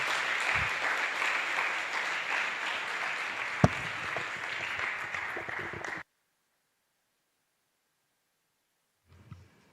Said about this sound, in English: Let's clap for Afande Hassan